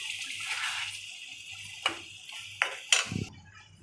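Water is poured into a pan of Nellore-style tamarind fish curry, a steady soft splashing hiss with a few brief louder splashes near the end.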